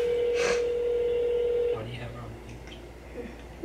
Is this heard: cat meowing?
no